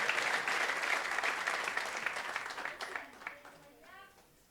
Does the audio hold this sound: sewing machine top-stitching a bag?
no